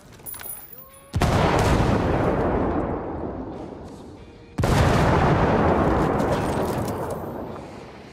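A grenade goes off in Ghost Recon Wildlands, with two heavy, loud explosions a few seconds apart, each a sudden blast followed by a long rumbling decay, amid gunfire, preceded by faint gunshots and shouting.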